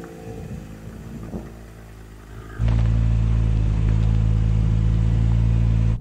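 SUV climbing over an off-road hill, either a BMW X3 M or Porsche Macan GTS, starting as a distant rumble and then surging into a loud, close, sustained engine roar.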